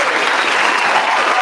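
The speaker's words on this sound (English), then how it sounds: "Give them a hand clap, everybody." Audience applause, a dense, loud burst of steady clapping from a crowd lasting the whole short moment, with no distinct voices.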